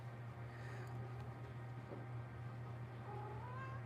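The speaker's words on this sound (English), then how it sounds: "Good cat." A cat meows softly a couple of times indoors, faint and distant against a steady low background hum.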